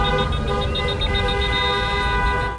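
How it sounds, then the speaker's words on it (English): Car horns honk all around San Antonio after a Spurs basketball win, a dense, continuous din of overlapping sustained toots filling the street with traffic rumble beneath, loud and unbroken throughout. "the honking cars all around San Antonio following yesterday's win show how the Spurs brought it home"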